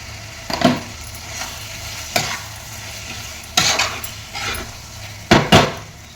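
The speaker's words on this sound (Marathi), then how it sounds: "पाच ते सहा कांदे घेतले होते मी मोठे यामध्ये थोडंसं मी टाकूया" Five or six large onions go into a hot pan for a yellow potato dish, frying with a steady background sizzle while a utensil stirs and scrapes against the pan in several distinct bursts.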